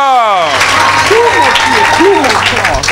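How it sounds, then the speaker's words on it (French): A congregation applauds and cheers during a church worship service, with steady, loud clapping throughout and voices calling out over it. "Acclame."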